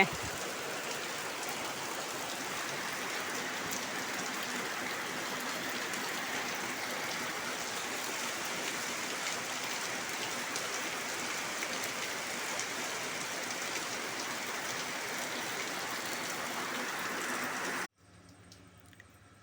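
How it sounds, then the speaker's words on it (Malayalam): Steady rain patters on surfaces in a continuous hiss for most of the clip, then cuts off abruptly near the end. "മഴ പെയ്യണതൊക്കെ കാണാൻ നല്ല രസമാണ്"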